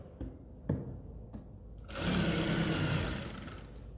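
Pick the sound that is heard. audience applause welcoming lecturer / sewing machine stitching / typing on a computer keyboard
sewing machine stitching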